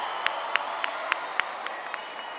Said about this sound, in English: applaud your efforts